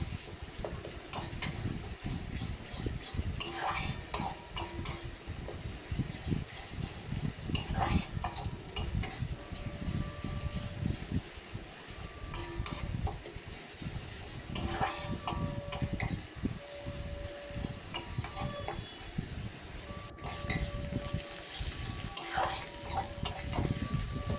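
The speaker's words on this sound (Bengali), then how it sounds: "এভাবেই কিছুক্ষণ ধরে আমি নাড়াচাড়া করে এরকমভাবেই পেঁয়াজটাকে কষিয়ে নিচ্ছি" Chopped onions stirred and browned in a pan of hot oil for a fish curry, with steady sizzling frying noise, repeated scraping stirs and occasional spoon clinks against the pan, close up and without talk.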